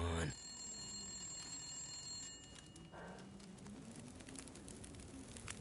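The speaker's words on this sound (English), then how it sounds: "Is the phone ringing?" A telephone rings indoors with a high, thin electronic tone that sustains early on, then fades under a soft, steady background hum.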